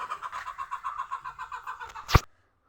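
A rooster crows in a long, wavering call that ends in a sharp clatter, then silence.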